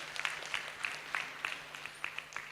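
Scattered applause from an audience at a women's leadership summit and gala, distinct individual claps in an uneven rhythm, fairly faint and thin rather than a full ovation.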